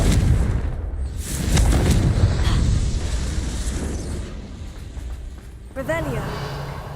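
A Confringo blasting spell in the Hogwarts Legacy video game bursts with loud booming explosions and rumbling impacts, fading out before a sharper pop near the end, with game voices mixed in.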